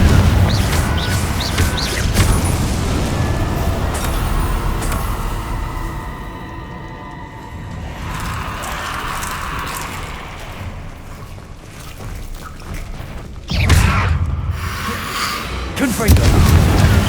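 Repeated Confringo blasting-curse explosions boom through a Hogwarts Legacy fight with Inferi, several heavy bursts spaced across a dense, rumbling game soundscape.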